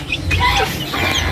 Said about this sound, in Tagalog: welcome sa atin ang mga manok